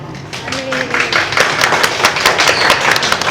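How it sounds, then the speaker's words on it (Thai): Applause at a wedding for an LGBTQ couple's ceremony: a crowd claps steadily and fairly loudly for a few seconds, the claps getting denser toward the end, with a voice briefly audible near the start. "ขอเสียงปรบมือให้ทางพี่เขาได้ไหมคะ"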